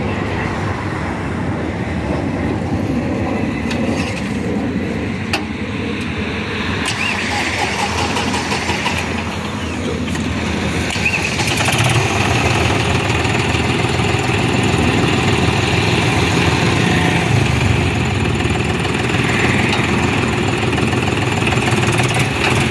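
A 41 HP tractor engine running during a test ride: a loud, steady diesel chug and rumble throughout, close by, with rattling and a slight rise in engine effort partway through, no talk.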